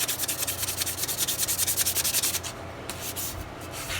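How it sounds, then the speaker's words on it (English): Close, rhythmic sanding of a Kubota L185 tractor's metal exhaust pipe with fast back-and-forth scratchy strokes, then a lighter, steadier rubbing for the last couple of seconds. "This is just the sanding part."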